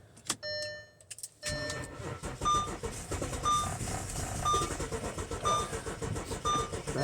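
A 2007 Audi Q7 engine cranks after a used steering lock is installed. Dashboard chimes come first, then the starter turns over in uneven surges while a soft electronic beep repeats at regular intervals.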